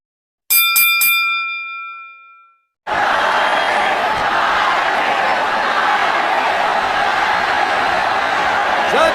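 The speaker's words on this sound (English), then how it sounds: "Judging by the chants, the crowd's about 50-50." A large boxing crowd roars steadily in an arena during the Manny Pacquiao vs Marquez fight. Bell dings sound first, then the loud crowd noise carries on unbroken to the end.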